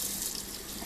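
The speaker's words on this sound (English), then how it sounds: "you can go ahead and just run it under some warm water" Warm tap water runs steadily from a faucet over partly frozen chicken in a kitchen sink, a continuous broadband hiss and splash with no talking.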